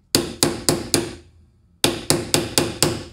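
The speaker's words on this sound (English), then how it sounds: "we're gonna go back to the hammering" A hammer strikes thrift store furniture being taken apart for a mid-century phone booth build: four sharp, loud blows at an even pace, a brief pause, then five more, each ringing out with no talking.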